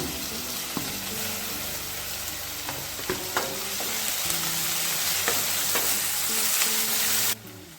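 Chopped small tomato sizzles steadily in a hot pan for a drumstick-leaf stir-fry, a continuous close hiss broken by occasional sharp clanks of a spoon stirring, ending abruptly.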